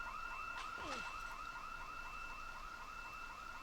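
Car alarm going off in the Project Zomboid video game, a steady warbling electronic siren repeating in regular cycles at moderate distance, continuous throughout under rain-like background hiss.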